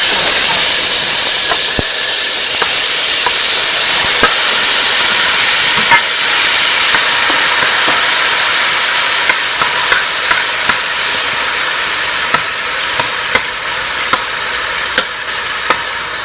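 Pork sausage fries in a pan over medium-high heat, making a loud, steady close sizzle with scattered small pops and spatters throughout, no one talking.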